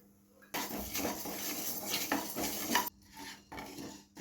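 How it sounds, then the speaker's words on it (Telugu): Fenugreek and cumin seeds roasting in a kadai on a stove, with steady metallic scraping and stirring against the pan, loud and close, plus a few lighter clinks near the end. "స్టవ్ వెలిగించి కళాయి పెట్టుకొని మెంతులు, జీలకర్ర వేంపుకోవాలి."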